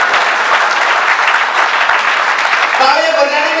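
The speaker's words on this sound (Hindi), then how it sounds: "तालियां कमजोर है साहब" A comedy show audience claps steadily, a dense wash of applause carrying on throughout, with a voice briefly emerging near the end.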